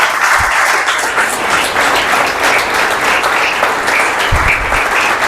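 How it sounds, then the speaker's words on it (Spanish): Loud, sustained applause from a large church congregation during a sermon, dense and steady throughout, with no speech over it. "Aplauda."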